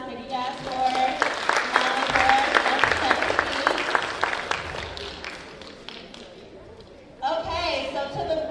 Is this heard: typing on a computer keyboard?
no